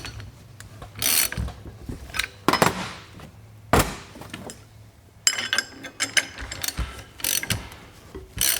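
A ratchet with a 3/4 inch socket tightens bolts in a star pattern on a ratio sleeve assembly for an HG 437 Big Bear and Little Bear. It gives repeated bursts of close, sharp clicking, with brief pauses between runs.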